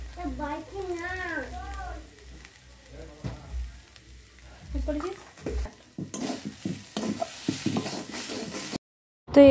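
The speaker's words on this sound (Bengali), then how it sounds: "তো এটা আমরা কনস্ট্যান্ট নাড়তে থাকবো যাতে না তলায় ধরে যায়" Soybean momo filling stirred in a frying pan, with scraping spatula strokes and a light sizzle under talk, getting busier and louder in the second half, then a brief silence before a final loud clatter.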